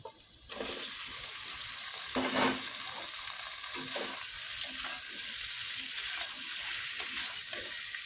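Potatoes and eggs fry in a hot pan, a loud continuous sizzle sounding close by and alone, with scraping and stirring from a utensil breaking through now and then.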